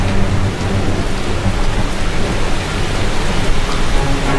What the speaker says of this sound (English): The rain sounds are pretty.